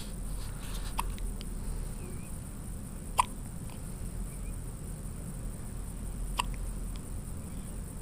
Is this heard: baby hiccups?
yes